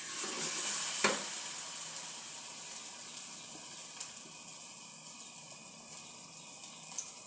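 Jackfruit fritters sizzling steadily in hot oil, a dense continuous frying hiss with a brief louder crackle near the start, no talking.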